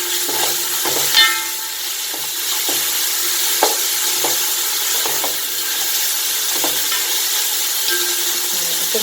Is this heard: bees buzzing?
no